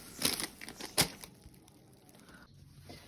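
A full plastic bag holding about five kilograms of potatoes is handled, giving two sharp crinkling rustles near the start, then quieter scattered crackles, faint and close.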